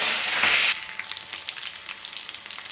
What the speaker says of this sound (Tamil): சோம்பு செவந்து வந்ததும் பச்சை மிளகாய், கருவேப்பிலை சேர்த்துக்கலாம்.